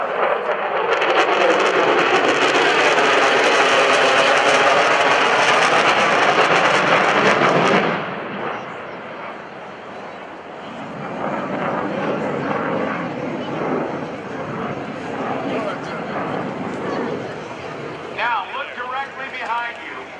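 Loud jet roar of a USAF F-16 Fighting Falcon flying past at an airshow, a broad rushing wash for about eight seconds that fades into distant rumble, with crowd noise beneath.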